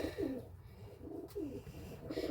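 Pigeons cooing in repeated low, rolling phrases, close and fairly quiet, kept indoors where one bird with an injured wing cannot fly; soft background noise runs beneath the calls.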